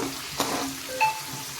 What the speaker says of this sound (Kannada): ಈಗ ನಾನು ಫ್ರೈ ಮಾಡ್ಕೋತೇನೆ ಇದನ್ನೆಲ್ಲ ನಾವೀಗ ಚೆನ್ನಾಗಿ ಮಿಕ್ಸ್ ಮಾಡ್ಕೋಬೇಕಾಗುತ್ತೆ